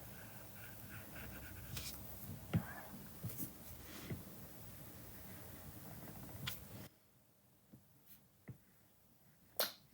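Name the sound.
stylus drawing on a tablet in Procreate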